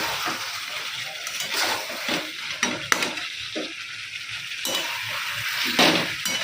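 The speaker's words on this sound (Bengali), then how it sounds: "অনেকক্ষণ তো কষিয়ে নিলাম" Mutton being slow-fried (kosha) in a pan with capsicum, stirred steadily with a spatula that scrapes and clinks against the metal over a low sizzle, close and alone with no talking.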